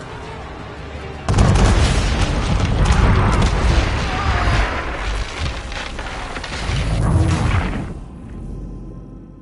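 Ship cannons boom in a naval battle in Assassin's Creed 3, with a sudden heavy blast followed by continuous rumbling explosions and whooshing shot, loud and close, with voices shouting underneath.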